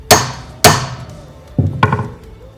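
Four sharp metallic whacks strike the top of a reel mower's reel during adjustment, two evenly spaced then two closer together, each ringing briefly, close and loud with no talking.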